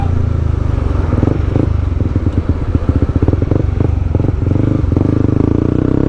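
A Honda CB150X motorcycle engine rumbles loud and close, revving and puttering as it squeezes through Manila traffic past road works, with rattling clatter mixed in.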